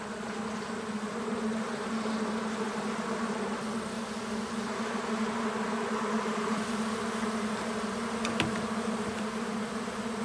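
Honeybees swarming in an opened hive on a farm, a dense continuous buzz that stays close and steady throughout, with a faint brief click near the end.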